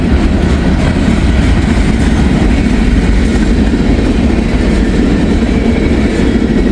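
A freight train hauling loaded coke cars rolls through a level crossing, close and loud, with a continuous heavy rumble and rhythmic clickety-clack of wheels over rail joints throughout.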